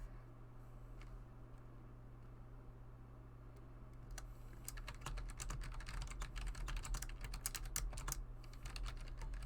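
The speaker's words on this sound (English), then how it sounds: "Oh, you can hear the squeak on the keyboard." Someone types on a squeaky computer keyboard, with sparse, light keystrokes at first, then a dense, quick burst of clicking over a steady low hum.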